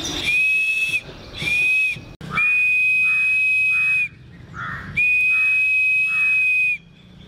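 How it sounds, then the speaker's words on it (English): A shrill whistle made from a drinking straw is blown in four steady blasts, each a few seconds long, close and loud with breathy hiss around it. "Now as you blow air,"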